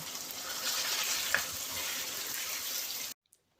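Chicken and potatoes sizzle steadily as they fry in a pot, a dense continuous crackle with a brief clink partway through, cutting off abruptly near the end into near silence.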